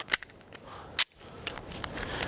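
A Taurus G3 full size pistol firing 115 grain rounds: two sharp, brief cracks about a second apart, fairly faint, over a quiet outdoor background with no talking.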